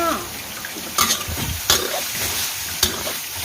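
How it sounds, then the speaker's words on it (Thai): Pork stirs and scrapes in a hot, dry wok with no oil, giving a soft sizzle, punctuated by a few sharp clanks of a utensil against the metal. "รวนกับกระทะเปล่าๆแบบนี้นะคะยังไม่ต้องใส่น้ำมัน"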